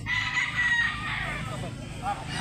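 A White Kelso rooster at a chicken market in Mantalungon, Cebu crows once in a short, nearby call, over low background murmur.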